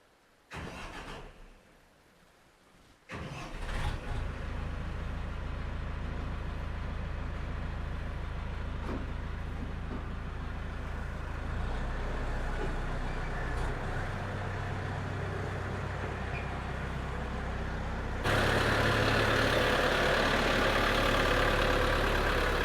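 A tractor towing a trailer starts and pulls out on a farm by a pasture. After a short quiet, the engine catches and settles into a steady, rumbling run close by, and it grows louder toward the end.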